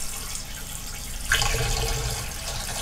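Liquid poured into a motorhome waste water tank while cleaning it, a faint running trickle that turns louder and splashier partway through and then keeps flowing steadily, with no voices.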